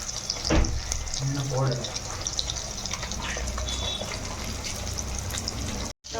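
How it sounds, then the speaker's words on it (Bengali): Small rohu fish frying in oil, a steady close sizzle with occasional stirring clinks and a brief scrape, under a faint background voice. "তো প্রথমে মাছগুলো ভালো করে ভেজে"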